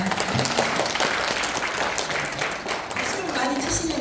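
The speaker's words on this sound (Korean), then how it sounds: "박수 한번 부탁합니다." A lecture audience in a hall applauds at the speaker's request, the clapping dense and continuous with some crowd noise and a voice briefly mixed in.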